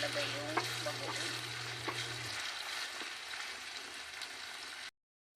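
Pork frying in a pan while bagoong alamang shrimp paste is added, a steady sizzle with a few clinks of a utensil against the pan, a low hum under the first half, and an abrupt cut to silence at the end.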